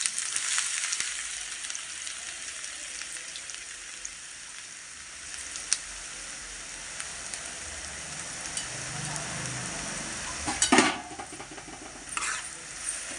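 Onions frying in oil in a pan, a continuous hissing sizzle with occasional spoon scrapes and knocks, steady and moderately loud.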